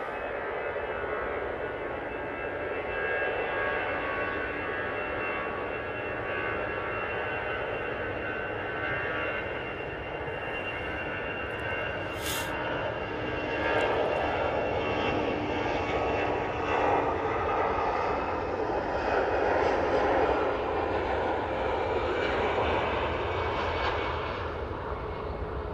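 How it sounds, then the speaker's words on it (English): An EasyJet airliner rolls for takeoff at Manchester Airport, its jet engines a sustained, broad roar heard from a distance, steady and gradually swelling, with no voices over it. "Easyjet on the roll."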